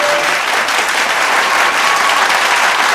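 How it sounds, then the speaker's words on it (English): A large audience at Anant Ambani and Radhika's sangeet ceremony applauds cricketer Hardik Pandya, loud, dense, continuous clapping close by with no break. "A biggest round of applause for Hardik Pandya."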